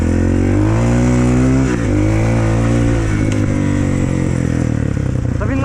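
A Shineray VXR 300 motorcycle engine roaring loud and close while riding, with pitch rising and dipping through throttle changes and a brief gearshift dip, and a voice talking faintly underneath.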